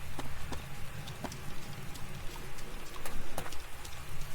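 Rainfall in the game DayZ Epoch, a steady hiss of falling rain with scattered sharper drop and patter impacts, fairly close and continuous, no voices over it.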